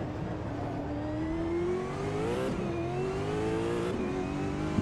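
A hypercar engine howls at Monza in the racing game Automobilista 2, a smooth high whine rising steadily under acceleration and dipping sharply twice at quick gear shifts before climbing again, loud and continuous.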